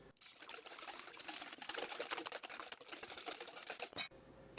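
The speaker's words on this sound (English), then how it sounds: "we're going to whisk these, she says, for about a minute until they're foamy and blended" Eggs are whisked in a bowl until foamy and blended, making a fast, close run of light rhythmic clicks and tapping that continues for about four seconds and then stops abruptly.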